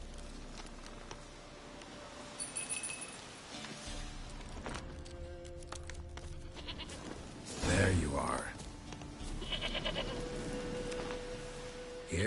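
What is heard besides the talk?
goat bleating in video game Witcher 3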